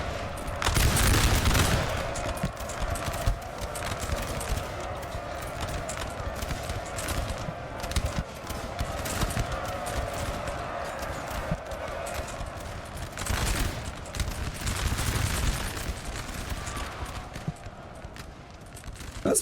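Dense, continuous musket volleys crackle through a Napoleon Total War 3 battle, with galloping horses mixed into the din of a large 4v4 clash; loud and sustained, with heavier bursts near the start and middle.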